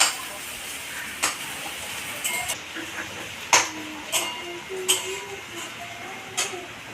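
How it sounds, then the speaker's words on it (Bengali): Onions fry in a pan under a soft background sizzle, with sharp, regularly spaced taps and scrapes of a spatula stirring them. "পেঁয়াজটাকে হালকা লাল করে ভেজে নিয়েছি"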